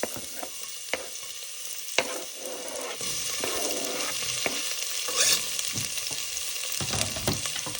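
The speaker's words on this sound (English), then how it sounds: "I'm going to go ahead and add the garlic and onions." Garlic and onions sauté in hot olive oil in a pressure cooker, making a strong, continuous frying sizzle with sharp spatula taps and stirring scrapes scattered across it.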